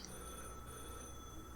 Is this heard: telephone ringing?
yes